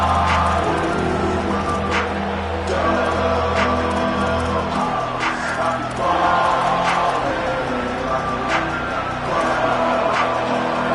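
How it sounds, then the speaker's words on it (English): Home crowd roaring in the College Football 27 video game, a loud sustained stadium roar with repeated swelling rhythmic bursts over a steady low rumble, no clear talk. "how nice is it to have the home crowd going absolutely bananas"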